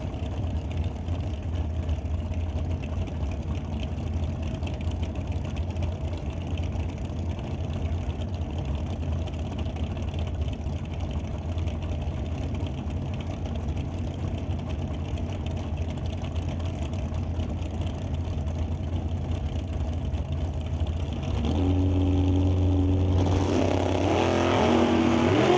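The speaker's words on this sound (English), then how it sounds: "here comes Jan Christensen in the dragster, chasing down Mike Robinson in the roadster" Drag racing engines from a 2002 dragster and a roadster at an NHRA Summit ET Series final, a steady distant engine drone and roar that swells louder near the end.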